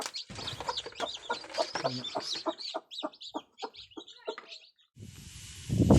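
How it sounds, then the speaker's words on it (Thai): Newly hatched baby chicks peep in quick, high, closely spaced calls, close by and fairly loud, with a brief pause before a rougher rustling burst at the end. "ท่านผู้ชมวันนี้พาเบิ่งไก่น้อยเนาะ"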